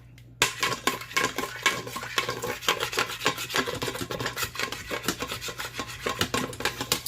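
Browned bits being scraped from the bottom of a pan while cooking stuffed chicken: a close, rhythmic rasping scrape that repeats steadily, with no talking.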